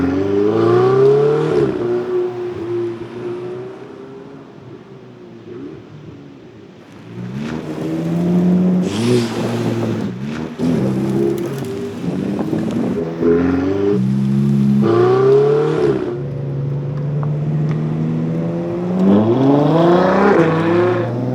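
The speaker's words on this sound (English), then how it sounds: "Oh, the Ferrari's coming closer, but Millie's got it." Ferrari engine revving and driving past, loud and near, its pitch climbing and falling through repeated acceleration, with a quieter lull partway through before the engine swells again.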